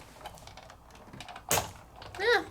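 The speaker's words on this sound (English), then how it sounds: "Now I'm gonna put my do not cut plate right on top, and I'm gonna send this on through. You may hear some creaks and cracks." A manual die-cutting machine presses paper between plates and an open-frame die, giving a sharp crack followed shortly by a brief creak, close by against a quiet background.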